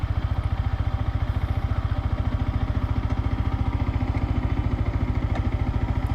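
A Yamaha MT-15 BS6 2021 motorcycle engine idles with a steady, rapid low thump, close and even throughout with no break.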